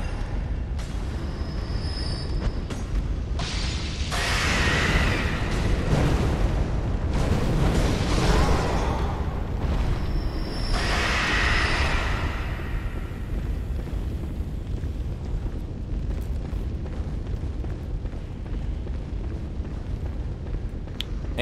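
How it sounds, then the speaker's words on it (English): Fire flaring after a pungent blood cocktail is thrown into it in the Bloodborne game, loud booming bursts and rushing roar that swell mid-way and then settle into a low rumbling crackle. "we can throw a pungent blood cocktail into the fire, and they'll chase after it and burn themselves up"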